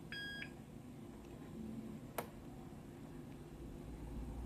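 A Tefal Actifry Express XL air fryer gives a short double beep as its power button is pressed, clear against quiet room hiss, followed by a faint click.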